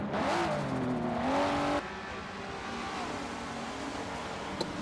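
Race cars exit the pit lane into heavy traffic at Circuit de Catalunya: engines rev loudly with rising and falling whines that cut off sharply, then a lower steady roar of more cars carries on.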